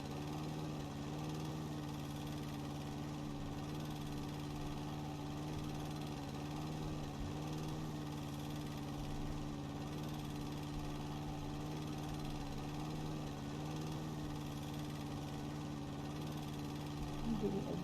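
A lawn mower engine drones steadily in the video game House & Garden Flipper, a continuous even mid-pitched hum with a faint rattle that runs unbroken throughout at a moderate level.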